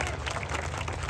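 Crowd at a packed political rally ground in Amravati breaking into applause, dense and loud clapping that is close and continuous for the whole moment.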